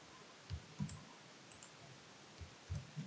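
Computer mouse clicks while working in Excel, a handful of faint, soft taps in uneven pairs over quiet background hiss.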